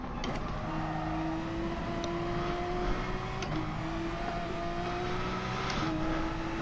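Porsche race car in Gran Turismo Sport, its engine droning steadily throughout with rising pitch sweeps as it revs through the gears, loud and continuous with no talk.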